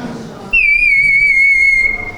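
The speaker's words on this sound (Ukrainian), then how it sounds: "свистунці, в які можна набирати воду, і вони гарно співають" Bright, warbling birdsong-like whistle from a water-filled clay whistle starts abruptly and holds for over a second, loud and close, with a wavering trilled pitch.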